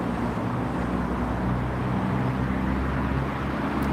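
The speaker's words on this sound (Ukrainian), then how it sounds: "Ви чуєте е, шум е, автомобілей, тому що е, це у нас набережна." Steady car traffic hums along the Dnipro river embankment, a continuous low rumbling road noise at moderate distance with no talk over it.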